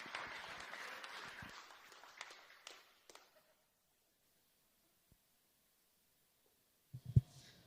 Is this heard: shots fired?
no